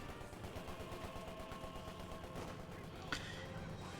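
Rifle and small-arms gunfire crackles through a Company of Heroes 2 skirmish between OKW Jaeger infantry with marksman rifles and British forces, a steady low-level din of distant shots with one sharper burst near the end.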